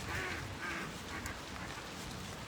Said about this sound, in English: more duck noises.